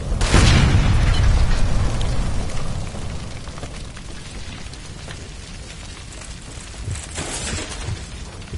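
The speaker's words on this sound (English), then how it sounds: "Shoot the gas line, Cole, we're out of here" A gas line blows up in a video game shooter, a loud booming blast at the start that rolls into a long rumbling, crackling tail of debris and fire, with a smaller burst flaring near the end.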